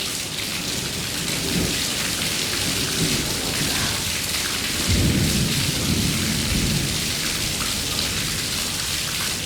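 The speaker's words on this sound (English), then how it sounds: "The rain's definitely calming down now as well." Heavy rain pours steadily during a severe thunderstorm in Dubai, with low rumbles of thunder rolling under the constant hiss of falling water, loud and close throughout.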